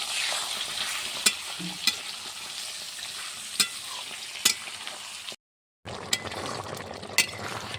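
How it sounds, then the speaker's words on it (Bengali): Onions fry in a pan with a steady close sizzle, punctuated by sharp utensil clicks and scrapes, briefly cut to silence before resuming. "এখন পেঁয়াজটা ভাজা হচ্ছে"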